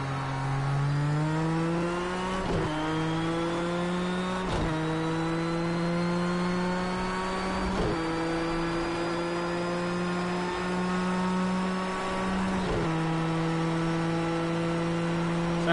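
A Ford GT race car in Project Cars 2 drones steadily at Fuji's GP circuit, its engine note climbing through each gear and dropping sharply at the upshifts, which come several times at regular intervals, heard alone and fairly loud.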